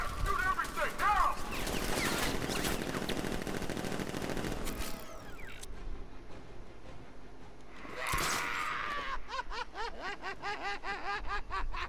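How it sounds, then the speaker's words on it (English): Rapid bursts of gunfire rattle through a Nightwing section of the video game Batman: Arkham Knight. The volleys come in fast strings at the start and again near the end, with game voices and other effects mixed in between. "Open fire! Shoot everything!"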